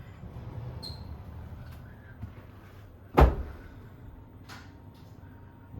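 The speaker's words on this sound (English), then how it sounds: "Bathroom door." Bathroom door in a Hampton by Hilton hotel room in Bristol opening with a single sharp knock or clunk near the middle, close and fairly loud, amid quiet room tone with faint handling sounds.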